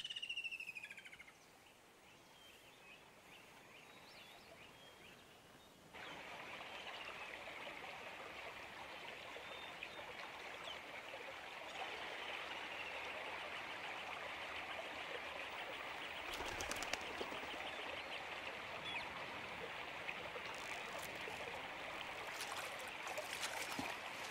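A flowing stream trickles and babbles steadily in peaceful wild surroundings, a soft continuous wash with a few faint bird chirps over it.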